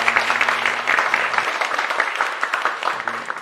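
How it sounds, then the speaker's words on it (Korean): Congregation applause in a Korean Sunday church service welcoming a newly registered member, a short, moderately loud burst of many hands clapping with a faint musical tone underneath. "잠시 자리에서 일어나 주시면 우리 축하의 박수를 쳐드리도록 하겠습니다"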